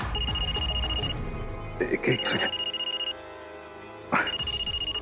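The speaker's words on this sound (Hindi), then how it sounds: "2 मिनट, एक जरूरी फोन आ गया।" A telephone rings with an incoming call, sounding loud and close in repeated electronic bursts with short pauses between them, while a voice speaks briefly during a gap.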